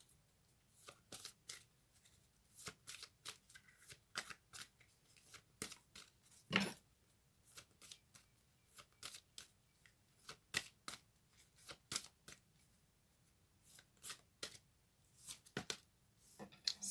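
Tarot cards are shuffled and drawn during a reading. Quiet, crisp riffles and snaps come in irregular bursts, with soft pauses between them, close to the microphone.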